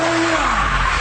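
A car sliding through a skid with a sustained tyre squeal and engine roar, loud and close, running steadily for about a second.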